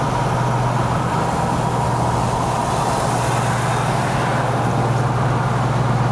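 A 1963 Chevrolet Corvair cruising in fourth gear at about 45 mph and 2,000 RPM, giving a steady, loud engine and road drone with no break.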